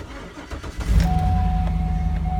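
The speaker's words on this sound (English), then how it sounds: "Engine starts right up as we would expect." A 2008 Cadillac Escalade with the 6.2 L L92 V8 and 306,000 miles cranks briefly, then catches and settles into a steady, close idle with a low rumble and a faint whine.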